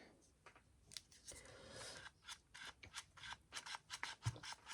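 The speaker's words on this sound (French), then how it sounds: "Là, on va couper ça." Paper being cut with scissors for a torn-paper scrapbooking project: a run of quick, close snips and rustling blade strokes, irregular in rhythm, with brief soft talk mixed in.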